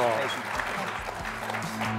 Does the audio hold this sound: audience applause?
yes